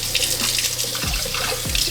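A kitchen tap runs steadily into a cup of cold water, a close continuous splashing rush with a few gurgling shifts as the cup fills, heard alone without talk.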